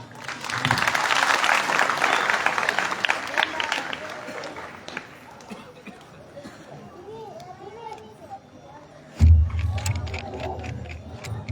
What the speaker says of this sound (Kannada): ತಮ್ಮೆಲ್ಲರ ಭಕ್ತಿಯ ಜೋರಾದ ಚಪ್ಪಾಳೆಗಳು ಪೂಜ್ಯರ ಶ್ರೀಪಾದಕ್ಕೆ ಅರ್ಪಿತವಾಗಿವೆ